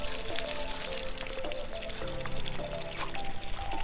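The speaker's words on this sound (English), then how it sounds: "the water is still flowing non-stop" River water gushes nonstop from the outlet of a homemade pump beside a young cornfield, a loud, dense, continuous splashing pour heard up close with no talk.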